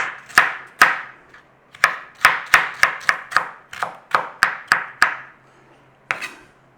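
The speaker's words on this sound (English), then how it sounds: "And we want to be cubing this up." A kitchen knife cubing food on a cutting board for an Irish tin bake, a steady run of sharp, close chops with a short pause after the first few, alone with no talk.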